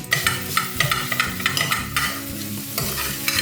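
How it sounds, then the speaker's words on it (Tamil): Cooked vegetables being mashed and mixed in a pan for veg burger patties, with a loud repeated scraping and stirring rhythm over a light sizzle and no talking. "இங்கே கலந்து விடும்போதே லேசாக மசிச்சு விட்டு நல்லா கலந்துக்கோங்க"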